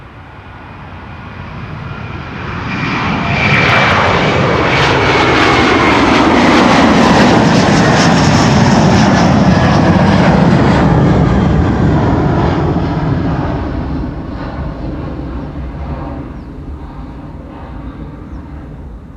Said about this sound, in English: Delta Airlines underway to New York, JFK, A330-300, flight 47.